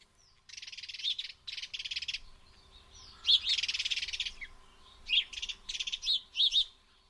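House sparrows chirping in repeated bursts of bright, busy twittering, several birds close by, with short pauses between the bursts and no talk.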